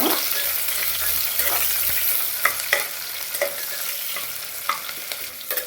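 Curry leaves frying in hot oil in a pan, a loud steady crackling sizzle with sharp pops and spatters scattered throughout, close up and alone without talk.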